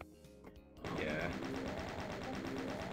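Rapid automatic gunfire from the Doom 2 video game starts abruptly after a short burst of game sounds, then continues as a dense, continuous rattle of shots, fairly loud and alone.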